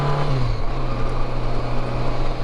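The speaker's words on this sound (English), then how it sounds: "I just love the way this bike sounds" A cheap older Honda Goldwing motorcycle engine while riding, a steady, low droning hum with wind noise, close and constant with no talking.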